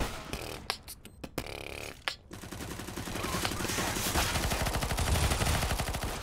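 Gunfire in the competitive shooter CS:GO: a few sharp isolated shots early, then a sustained rapid burst of automatic fire building and rattling on to the end, fairly close and loud.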